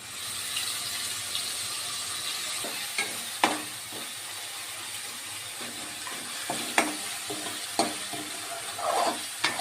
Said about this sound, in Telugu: అల్లం వెల్లుల్లి పేస్ట్ వేగనివ్వాలండి.